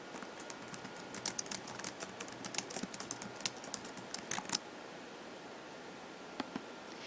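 Quiet, rapid keystrokes on a computer keyboard come in irregular bursts for several seconds, pause, then a couple more taps, with no talk.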